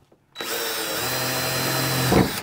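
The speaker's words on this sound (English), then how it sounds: "you just drilled a hole in your Model X" A power drill bores a hole into the body of a Tesla Model X, a loud, steady high-pitched whine starting abruptly and running about two seconds before a brief grinding burst as it breaks through.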